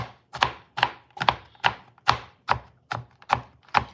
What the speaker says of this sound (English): let's cut the ginger. So I'm gonna mince them very small though.